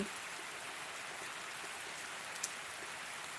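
Rain falls in a soft, even patter under a darkened sky, fairly faint and steady throughout, with a few slightly sharper drops standing out and no talking.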